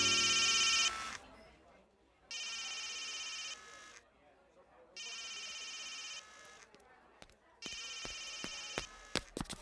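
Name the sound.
phone ringing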